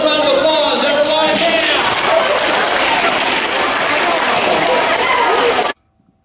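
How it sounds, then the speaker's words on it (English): A school assembly audience gives a loud, dense round of applause that fills the room evenly for several seconds, then cuts off abruptly into silence. "Thank you for that thunderous round of applause, everybody."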